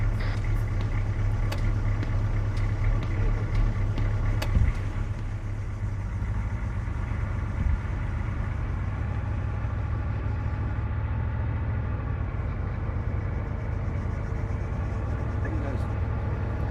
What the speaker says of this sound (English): I hear a vehicle right in front of us.